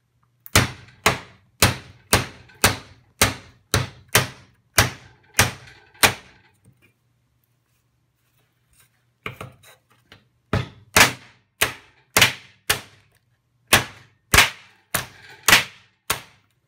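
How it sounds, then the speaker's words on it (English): Hammer striking G10 frames to break them, a series of sharp loud bangs in a quick steady rhythm, a pause of a few seconds, then more rapid repeated blows, close and without talk. "we were really hammering on these things"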